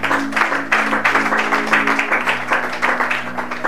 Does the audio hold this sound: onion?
no